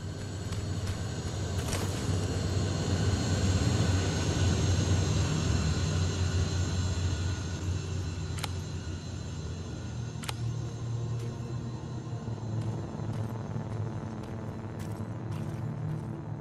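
Hunter-killer aircraft from Terminator Resistance settle down at a refueling station, a steady low engine rumble and drone filling the scene, with a few sharp clicks and thumps cutting through over about sixteen seconds.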